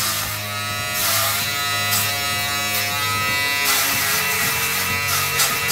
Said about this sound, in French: c'est la préparation du passage du rasoir électrique